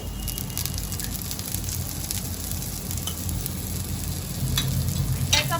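Onion frying in a pan for a disco egg fry, a steady close crackling sizzle that grows slightly louder toward the end, with a few faint clicks, no talking.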